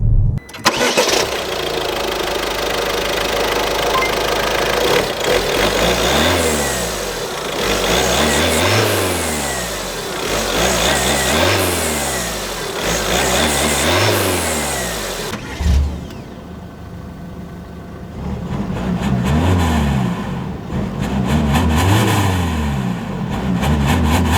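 A Peugeot 5008 with a 1.5-litre inline four-cylinder single-turbo diesel and eight-speed automatic accelerates repeatedly, its engine note climbing and falling in several loud, close surges through upshifts, then settling and rising again.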